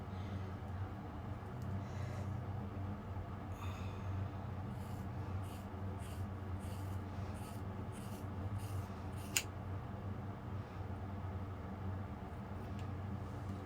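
Scissors cutting hair during a home haircut, a series of soft, crisp snips close by over a faint steady hum, with one sharper click near the end.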